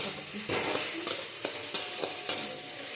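Spices such as chili powder, salt and cumin paste are stirred into sizzling oil in a pan, a continuous fry hiss broken by several sharp scraping and clinking strokes of a spoon against the metal.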